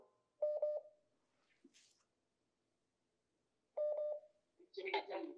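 Two bursts of telephone dialing tones, short beeping sequences a few seconds apart, with brief faint noises and a short voice-like sound in between.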